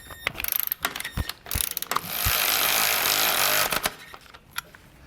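A power tool rattles and ratchets while tightening bolts on a vehicle's radiator support during a base plate install. Short bursts of clicking and whirring lead into a few seconds of sustained buzzing, then more scattered clicks.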